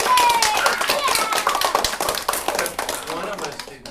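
Scattered clapping from a school band recruitment gathering, several pairs of hands tapping unevenly up close while voices talk over it throughout.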